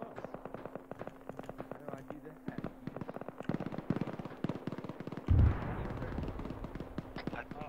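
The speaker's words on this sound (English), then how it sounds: "there's a lot of bullets and explosions flying in that town" Arma 3 gunfire crackles in quick, sharp bursts from several positions, fairly faint and distant, with one heavier thump like an explosion partway through, while voices talk over the fighting.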